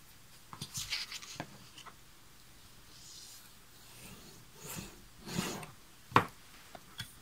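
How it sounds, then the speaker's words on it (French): Paper being scored and creased along a measured fold line, with soft scraping rubs and a few sharp crisp strokes, close and quiet with no talk. "je vais marquer ce pli dans un premier sens"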